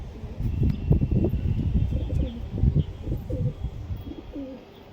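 A white male Kalanka domestic highflyer pigeon gives soft, low coos in short repeated phrases, close by over a busy outdoor murmur of other birds.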